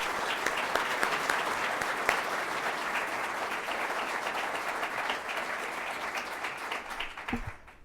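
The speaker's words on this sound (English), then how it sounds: "Let's give all our commendations another round of applause." Sustained applause from an audience at a police department commendation and promotion ceremony: many hands clap in a dense, even roll that lasts about seven seconds, then fades out, with a low thump near the end.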